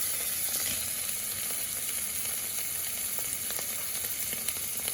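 Ginger and butter sizzle steadily in a hot pan while cooking Punjabi-style kofta, a constant close frying hiss with no break and no voices over it.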